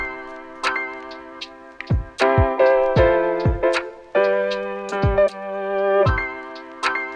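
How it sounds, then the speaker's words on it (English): Pre-made lo-fi drum loop sample from Splice, a crisp, close beat of ticking hits and low thumps repeating in a relaxed pattern with no voices over it. "So in Splice, I have a ridiculous amount of just pre-made like lo-fi drums."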